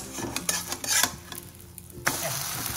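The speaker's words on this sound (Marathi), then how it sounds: "आपण कढईतलं पलटी करून घेऊ" A semolina snack frying in a wok as it is flipped over: several clattering scrapes and metallic knocks of the utensil against the pan, with a soft sizzle beneath, then a brief quieter stretch before another scrape.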